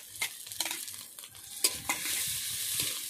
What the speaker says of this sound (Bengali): এই পেঁয়াজের সঙ্গে ভালোভাবে কষিয়ে নেব।